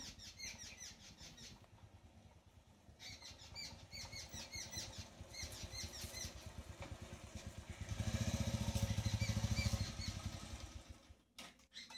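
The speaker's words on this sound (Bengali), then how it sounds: "ওই যে বাইকের শব্দ শুনতে পাচ্ছে মনে হচ্ছে, হ্যাঁ আসছে।" A motorcycle approaches a house gate on a hot, sunny day. Its engine rumble builds and grows loudest near the end before cutting off abruptly, with birds chirping earlier and no talking.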